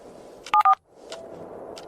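Telephone keypad dialing: two short, loud DTMF tone beeps in quick succession over a low room hum, followed by faint background noise.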